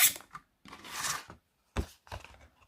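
A handheld Action-brand paper cutting tool forced through thick paper, heard as several rough, scraping cutting strokes in short bursts separated by brief pauses.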